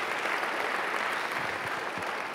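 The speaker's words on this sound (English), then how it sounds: "let's give him applause" Steady applause from a sizable crowd at a Liberty University convocation, a continuous wash of clapping at even loudness from start to finish.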